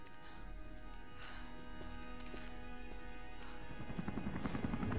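A helicopter in the video game Rise of the Tomb Raider gives a constant low rotor drone that grows louder, with rhythmic blade thumping building toward the end.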